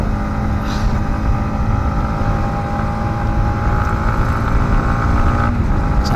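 A Yamaha MT-15 motorcycle engine drones loud and steady while riding, a continuous close road hum with no pauses.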